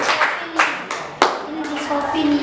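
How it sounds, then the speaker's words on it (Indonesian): Applause for a student group in a classroom, a few people clapping with several sharp claps standing out over a short burst, with a voice and other talk heard alongside. "Kita beri aplaus."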